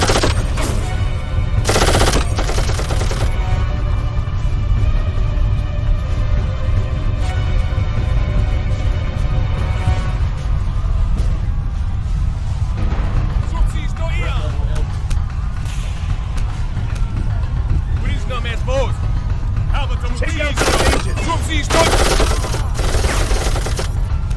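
Nonstop gunfire fills a combat scene in the video game Darkest of Days, set in Pompeii, with loud machine-gun bursts and single shots layered over a dense rumbling background while voices talk through it.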